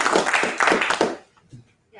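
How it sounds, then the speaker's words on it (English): Brief clapping from a small audience at a startup pitch event, a short burst of hand claps lasting about a second before fading out, with a faint voice afterward. "So let's give her a round of applause."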